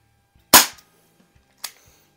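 Two sharp shots from a Crosman SNR357 CO2 revolver, close and loud, about a second apart, each a quick crack with a brief trailing hiss.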